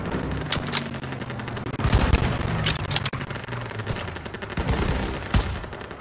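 Gunfire rattles in a Call of Duty WWII battle, with bursts of automatic fire and scattered single shots at moderate distance, steady and dense for several seconds without speech.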